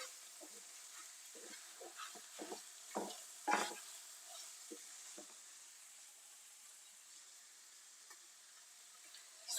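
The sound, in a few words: stirring ground meat with paprika in a pan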